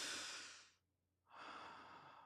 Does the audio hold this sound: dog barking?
no